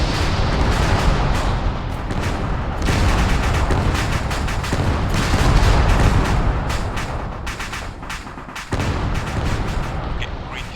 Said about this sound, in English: look at that explosion over here